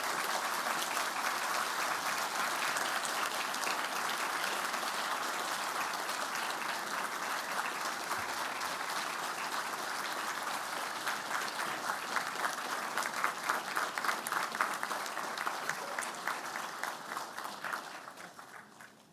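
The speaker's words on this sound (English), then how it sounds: "express thanks for the support you've received over the various years by acclamation, applause, or cheers, however you like." Graduation audience at a Griffith College Dublin ceremony applauding in a sustained, dense wash of clapping that holds steady for most of its length before thinning slightly near the end; no voices over it.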